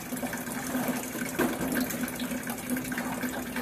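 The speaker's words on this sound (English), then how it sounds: "I wanna at least wait till the hot water come out." Hot water runs out of a tea machine that is being repaired for leaks, making a continuous splashing gush over a low mechanical hum, close and fairly loud, with no one speaking.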